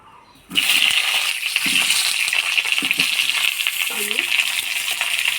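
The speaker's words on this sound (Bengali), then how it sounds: "তেল গরম হয়ে গেছে, এবার পটলগুলো দিয়ে দিব।" Pointed gourd (potol) pieces, coated in turmeric and salt, drop into hot oil and erupt into a loud, sustained sizzle with occasional clinks of stirring, close by and without talk.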